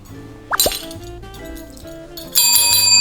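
Bell-like notification chime: a couple of bright clinks early on, then a sustained ringing tone near the end, loud and alone with no speech.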